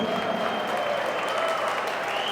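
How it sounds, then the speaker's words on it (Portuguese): Audience applause at a real estate sales meeting for the Città Residence development in Juiz de Fora, a steady dense clapping that fills the room and carries on evenly from start to finish. "Nossa, palmas para o Serginho, por favor"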